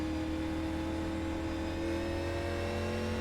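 The number 88 race car's engine hums steadily at a distance during pole qualifying, its tone climbing slightly as it accelerates, faint and continuous with no voices.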